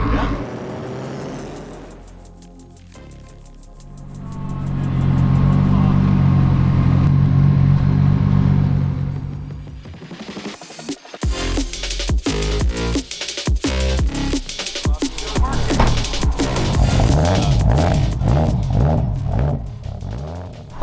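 A turbocharged K20-swapped Honda EG Civic hatchback drives and revs, its engine loud and close. The note rises and falls steadily, then turns into a busier, clattering run with repeated throttle blips, and a voice can be heard at times.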